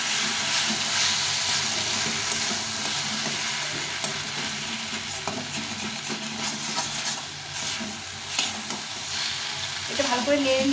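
Eggplant curry with roasted dry chilli, cumin, coriander and cardamom spices being stirred and fried in a pan: a steady close sizzle with repeated scraping stir strokes and no talk.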